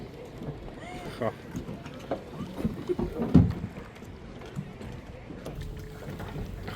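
Small boat on a lake in Austria, water lapping and sloshing against the hull with wind buffeting the microphone, occasional bumps and knocks, and people talking faintly in the background.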